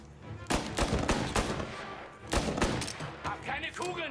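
Gunshots in the Mafia 1 video game, clustered loud bursts of several close shots separated by a short lull, with a few lighter reports near the end and no talking over them.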